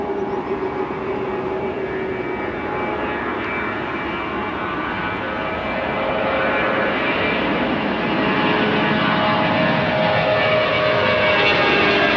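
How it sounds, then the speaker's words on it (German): A jet airliner bound for Istanbul roars steadily and grows louder as it powers up and speeds along for takeoff, a broad, continuous rushing drone with no voices. "mittlerweile gibt das Flugzeug Gas und da kommt er auch schon angeschossen."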